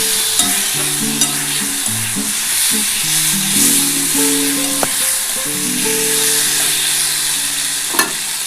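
Soybean and potato curry frying in a pan as spiced water is poured in, giving a steady close sizzle with occasional stirring clinks throughout, no voices.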